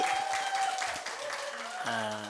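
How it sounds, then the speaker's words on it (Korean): An audience applauds at a Korean arts education event while a voice and a sustained tone carry over the dense clapping, which thins out toward the end. "다시 한번 박수."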